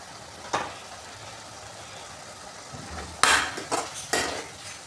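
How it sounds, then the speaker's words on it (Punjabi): Mushrooms roast in a pan with salt, turmeric, red chilli and garam masala, giving a soft sizzle under several sharp clanks and scrapes of a spoon stirring against the pan. "ਇਹਨਾਂ ਨੂੰ ਚੰਗੀ ਤਰ੍ਹਾਂ ਸਹੀ ਭੁੰਨ ਲਵਾਂਗੇ"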